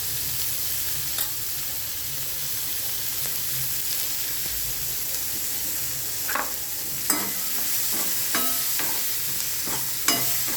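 Onion and red chili tempering for khichdi, crackling in hot oil with a steady sizzle and several sharp pops toward the end, no voices.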